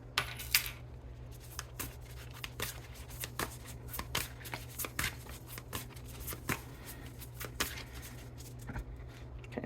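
Tarot cards from a shadow deck being shuffled close by, a run of crisp riffling flicks and soft taps at an uneven pace, quiet and with no voices.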